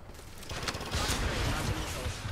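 Rampage LMG gunfire in Apex Legends, a dense, loud burst of rapid shots starting half a second in and sustaining to the end, heavy and close.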